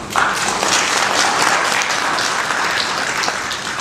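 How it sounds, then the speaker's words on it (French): Loud, sustained applause from a conference audience, dense and even clapping that fills the whole stretch without letting up. "je demanderai encore une fois de l'applaudir encore une fois"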